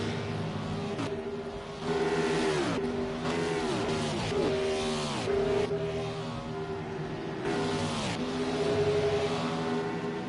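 Stock cars in a racing video game at Daytona roar past in a pack, their engines rising and falling in pitch as each car sweeps by, while car 38 spins through the grass amid the steady close traffic.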